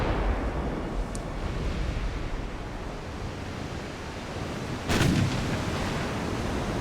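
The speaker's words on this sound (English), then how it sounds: "The Admiral class is opening up with its 9-inch guns." Naval gunfire from 9-inch guns in the warship game Ultimate Admiral: Dreadnoughts: a faint early crack, then one heavy booming salvo about two-thirds through, over a steady wash of sea and wind noise.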